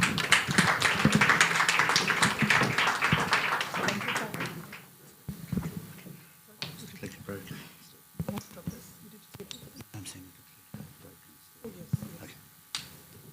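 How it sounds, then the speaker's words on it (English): Audience applause at a business conference on gas and infrastructure in Africa welcomes a speaker, dense and steady for about four seconds, then thinning into scattered claps and room noise. "Please welcome with a warm applause, Paul Edley Taylor."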